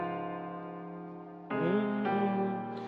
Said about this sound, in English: we start with our keyboard and it goes like this.